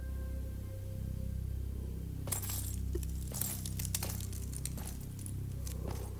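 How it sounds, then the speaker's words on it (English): Footsteps crunching over broken glass shards in the BRM5 video game, faint tinkling and scattered sharp clinks over a low steady background rumble. "you can even hear like the glass like breaking, the shards and everything as he's walking on the floor"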